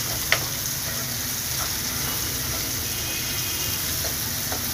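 Tomato frying in oil with asafoetida and turmeric for a Marathi sprout curry, a steady close sizzle and hiss with a few faint stirring clicks, no talking.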